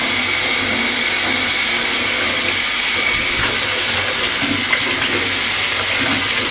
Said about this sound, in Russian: Вспениваю, включаю воду посильнее.